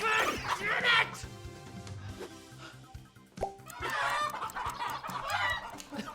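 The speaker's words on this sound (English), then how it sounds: "Chicken! I have to get you in the pen!" Chickens clucking inside a video game, a few short fowl calls breaking out at the start and again later, all set against a steady game music bed.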